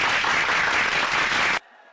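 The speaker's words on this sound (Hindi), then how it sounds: "बजाओ ताली" An audience claps loudly and densely in a steady burst for about a second and a half, then cuts off abruptly to near silence.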